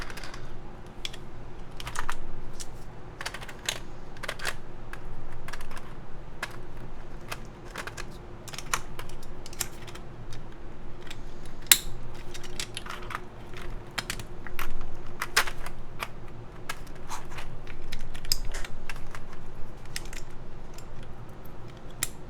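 Steady keystrokes on a GAF 910 mechanical keyboard, with brisk irregular clacks and occasional louder hits, close up and continuous, with no talking.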